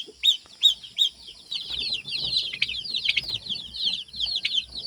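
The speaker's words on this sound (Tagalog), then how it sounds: "May kunting ano dito halo na manok" Chickens mixed in among turkeys, giving sharp high chirps and quick clucks, with a dense stretch of overlapping calls and some wing flutters, fairly close and moderately loud.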